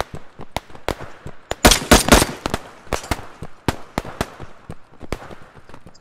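Rapid bursts of video game gunfire crack out in irregular volleys while a player runs down a hallway shooting, with a dense loud cluster in the middle and sharp scattered shots throughout.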